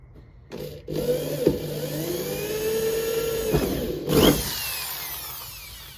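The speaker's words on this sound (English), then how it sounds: "simply take your drill, stick it in that guide hole that you made" A power drill whirs steadily for several seconds, its motor pitch holding then briefly rising as it bores a guide hole for fender flares on a Toyota, close and loud, with a short clatter near the end.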